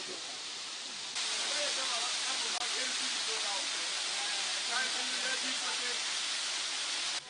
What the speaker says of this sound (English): This beautiful waterfall is the first and flows from the apex of the mountains and drops slowly into the valley.